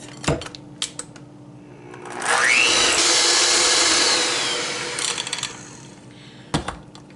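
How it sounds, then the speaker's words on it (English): Electric hand mixer beating cookie dough, a steady loud motorized whir lasting about three seconds with a rising pitch at start-up, framed by quieter knocks and bowl clatter before and after. "I'm just going to use my hand mixer, and we'll get this mixed in."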